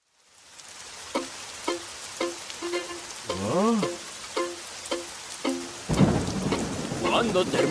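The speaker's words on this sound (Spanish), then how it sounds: "¿Cuándo terminará esta lluvia?" A cartoon rainstorm on a farm, with rain pattering and a burst of thunder near the end, mixed with short voiced sounds and bouncy cartoon effects.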